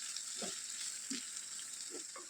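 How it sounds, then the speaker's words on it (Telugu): Chopped cabbage stirred into a sizzling tempering in a pan: a soft, steady hiss with a few brief scraping or stirring knocks, faint and close, no voices. "ఇప్పుడు మనము కట్ చేసుకున్నటువంటి ఈ క్యాబేజీని తాలింపులో వేసుకొని బాగా కలుపుకోవాలి."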